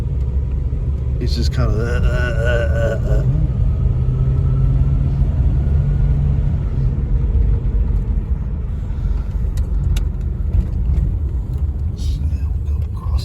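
A poorly running Plymouth Gran Fury accelerating on a test drive gives a heavy, continuous low rumble heard from inside the car, steady and loud beneath someone talking.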